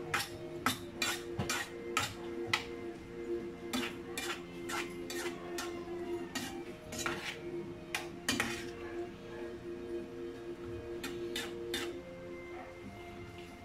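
A utensil scrapes and clinks against a cooking pot while stirring sautéed sayote (chayote) in a tinola-style broth, with irregular bursts of metallic taps close up over a low simmering hum.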